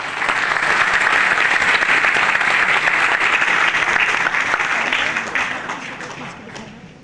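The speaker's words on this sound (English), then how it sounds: "I request everyone to please give a big round of applause." Audience at a national pharmaceutical science conference claps in a dense, even round of applause that gradually tapers off toward the end.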